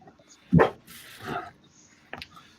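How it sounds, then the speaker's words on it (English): A dog barks near at hand indoors, excited by someone arriving: a loud bark, then a softer drawn-out yelp and a short sharp bark at the end. "my dog's down here barking because my mom just got here"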